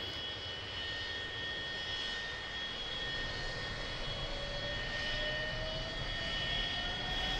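The jet engine of an F-100D in the DCS World flight simulator spools up during a cold start, a steady whine with a slowly rising tone over a constant roar, with no voices.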